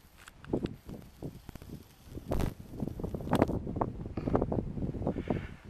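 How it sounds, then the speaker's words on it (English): Gusty wind buffeting the microphone in uneven bursts, rumbling and blustery, with brief rustling between gusts. "A little windy right now, but it's not bad."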